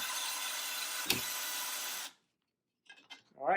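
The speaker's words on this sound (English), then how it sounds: "Here's where we recommend the power drill." A power drill whirs steadily while driving a screw into a quail cage, a close continuous buzz with a sharp click midway before cutting off into silence, then a voice begins talking.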